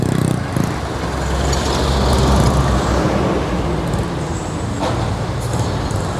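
Heavy road traffic flows beside an elevated expressway under construction between Laguna and Metro Manila, a loud continuous roar of cars, buses and trucks passing close by, with a brief air-brake hiss.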